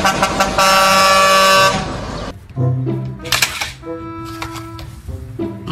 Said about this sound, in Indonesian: Truk kontainer.